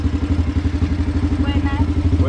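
A motorcycle taxi engine chugs at low idle on a rural, isolated Colombian Pacific island, a loud, close, pulsing rumble that runs steadily throughout with a brief voice over it near the end.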